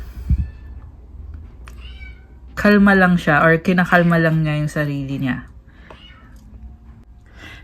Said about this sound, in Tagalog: Nga pala yung maingay is yung alaga kong pusa.